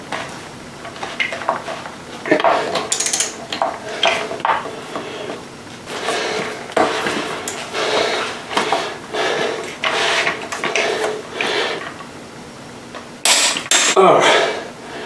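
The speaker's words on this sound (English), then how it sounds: "pull to torque it up to 160 foot-pounds" A wrench tightens the transmission nut on a 1983 BMW R100RS motorcycle to 160 foot-pounds. It makes close clanks, clicks and metallic scrapes in a series of irregular bursts, with a sharper cluster near the end.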